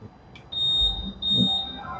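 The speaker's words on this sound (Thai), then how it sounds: "พอกดปุ่มเข้าไปนะคะก็จะ มีเสียงสัญญาณนะคะ" A Honda ADV160 scooter gives two steady high electronic beeps when its power button is pressed, each lasting about half a second, close and clear over faint background noise.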